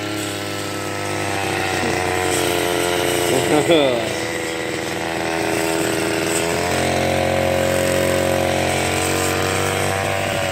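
A petrol grass trimmer cutting grass runs loudly nearby, its engine whine rising and dipping as it is swung back and forth, with people talking over the noise.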